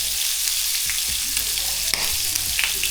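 Sausage and bacon sizzle steadily in a frying pan, a constant close crackle with occasional sharper pops and faint utensil clinks, no talking.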